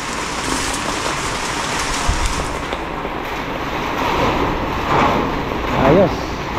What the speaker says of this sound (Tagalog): Biglang lumakas na naman ang ulan.